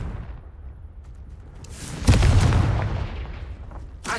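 A Confringo fire blast spell detonates in a Harry Potter video game: a sudden loud explosive burst that rumbles and fades over a second or two, standing alone with no talk.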